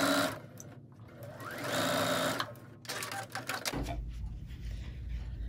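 A sewing machine stitches a quarter inch seam on quilting fabric, its needle running in a fast rhythmic chatter that speeds and slows, close and clear, with a soft clunk as it stops.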